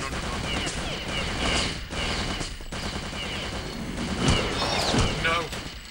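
Dense bursts of video game gunfire as players shoot at zombies in a war game, rapid volleys continuing under excited talking, with some crashing hits near the end.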